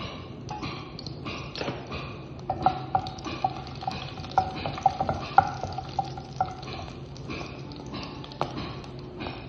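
Whole spices, among them cloves, green and black cardamom and marathi moggu, sizzle and crackle in melted butter in a pan. The frying hiss is steady and close, with scattered sharp pops and a few light utensil clinks, and nobody speaks.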